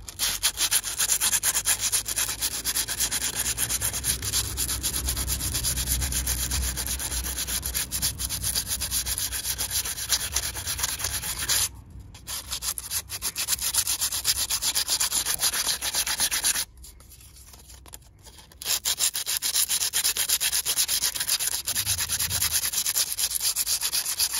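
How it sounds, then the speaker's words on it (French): Hand sanding a scratched Tesla wheel rim with sandpaper: continuous close rasping strokes, loud and steady, with two brief pauses where the rubbing drops away. "je prends un petit bout tel que celui-ci et je vais aller poncer"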